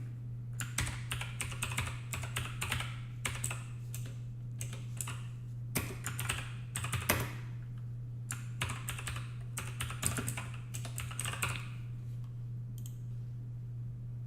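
An address is typed on a computer keyboard in irregular bursts of close, crisp key clicks with short pauses between groups, over a low, steady background hum and no talking.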